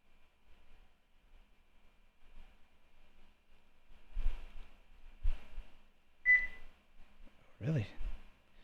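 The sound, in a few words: Simucube 2 Pro steering wheel beeping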